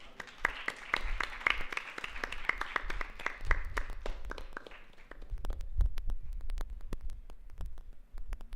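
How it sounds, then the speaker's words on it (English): An audience at a hackathon closing ceremony claps in a steady burst of applause, fading briefly and then picking up again with scattered claps. "Please give a huge round of applause."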